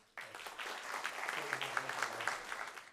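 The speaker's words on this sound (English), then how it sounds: "So one last round of applause for all those winners" Audience applause for award and scholarship winners at a ceremony, starting abruptly and holding as steady, fairly close clapping from many hands, with a few individual claps standing out.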